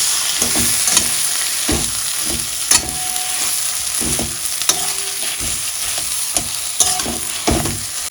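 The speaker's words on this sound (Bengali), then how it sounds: "তো আলুটা এখন ভাজা হয়ে গেছে" Potatoes dusted with chili powder, reheated in a little oil for mocha chop, sizzle and fry steadily in a pan, with a spoon stirring and scraping in regular strokes, close and fairly loud.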